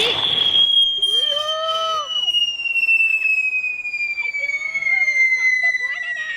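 A Diwali firecracker sends out a long, loud whistling shriek that slowly falls in pitch for several seconds, with a burst near the start and excited voices calling out over it.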